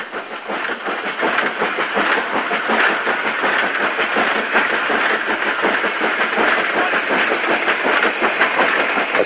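Train noise from the Somerset & Dorset line near Shepton Montague, attributed to a Class 8F steam locomotive. It is a continuous, steady rumble with fast rhythmic clickety-clack of wheels over rail joints, fairly loud and constant throughout, with no voices.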